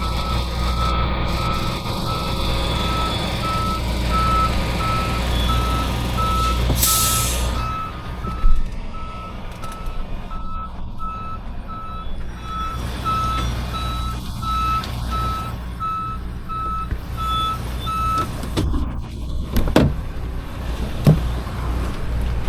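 A truck backing up sounds steady, evenly spaced reversing beeps over a low idling engine rumble, with a hiss of air brakes and some clunks, fairly close by.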